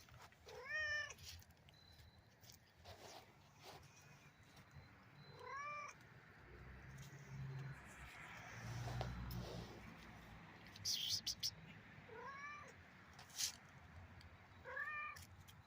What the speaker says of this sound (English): That's my cat Jace.